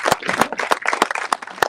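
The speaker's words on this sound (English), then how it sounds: "A round of applause." A modest group claps at an X-Alps 2023 press conference, a short burst of uneven, distinct handclaps close by rather than a full roaring ovation.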